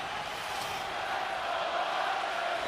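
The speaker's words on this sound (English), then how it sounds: "Crowd trying to get involved" Opening-night hockey crowd at a Florida Panthers versus New York Islanders NHL game, a steady dense roar of arena noise that swells slightly toward the end, with no clear cheering peaks.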